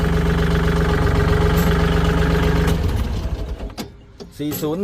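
A 2017 Kubota L4018 tractor idles with a steady engine drone for about three seconds, then the hum drops off, leaving scattered clicks and knocks.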